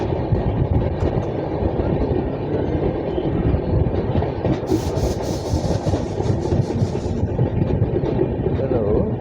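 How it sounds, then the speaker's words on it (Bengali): A passenger train rolls slowly through Gumanihat station without stopping, a dense, close, continuous rumble of wheels and carriages with a brief high squeal midway, while someone talks over the din. "ট্রেন এখানে দাঁড়াবে না, স্লো করেই বেরিয়ে যাবে।"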